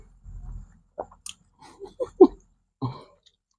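Close, wet chewing and biting while eating bamboo shoot curry and mango with rice, heard as a handful of separate short mouth noises spaced irregularly across a few seconds against near silence.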